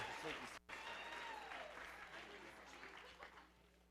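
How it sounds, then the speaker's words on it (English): A graduation crowd claps steadily, a warm wash of applause that gradually fades over a few seconds. "Big round of applause for Irving's group"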